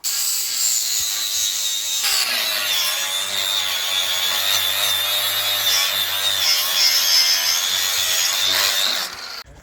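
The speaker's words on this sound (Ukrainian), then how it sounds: "Зараз шліфуємо болгарочкою." An angle grinder polishes a wooden sled with a steady, loud, high grinding rasp that runs almost unbroken for about nine seconds before cutting off at the end.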